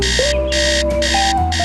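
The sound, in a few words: alarm clock ringing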